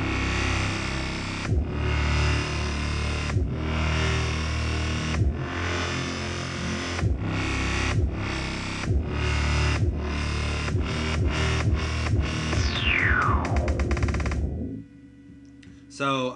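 Dubstep bass and piano made in FL Studio, sidechained to a kick drum so they pump rhythmically, a dense, loud loop that speeds into a rising sweep before dropping out near the end.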